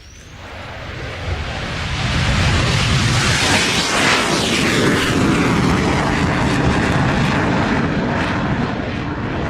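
A jet aircraft roars past at an air display, swelling from a rising whine into a loud, broad, sustained rush that stays strong and steady to the end with no voices.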